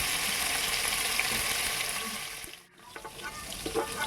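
Large paneer pieces frying in hot oil, a dense close crackling sizzle that dips briefly before resuming with light bubbling pops.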